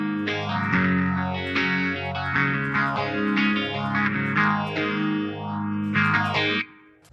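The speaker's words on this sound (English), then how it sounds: "the only thing you can hear now is that phaser" Electric guitar played through a phaser effect on a Headrush MX5 multi-effects unit, sweeping slowly up and down over sustained chords in a steady, looping whoosh, loud and alone before the tone drops away at the end.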